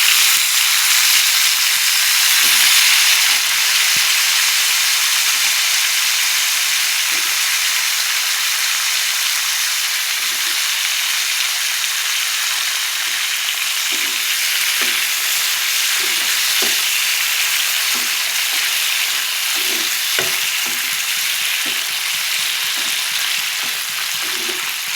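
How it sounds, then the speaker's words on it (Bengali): Steady sizzling of vegetables, including radish, frying in a pan, a continuous hiss with occasional soft clicks and stirring scrapes, close and fairly loud, no talking. "এই সবজিগুলো তুলে দিয়ে একটু সবজিগুলো একটু ভাজা ভাজা করবো"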